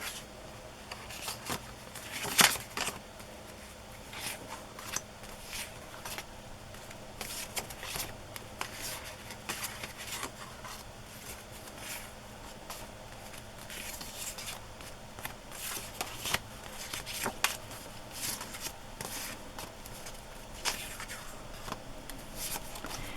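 Paper journal cards being handled and shuffled among art supplies, giving a steady rustle of soft papery shuffling and flicks with a few sharper crisp snaps, close by and with no talk.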